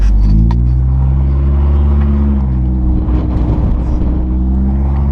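A car engine with its mufflers removed roars loud and close, a deep steady rumble with a brief rev at the start, running alone without voices.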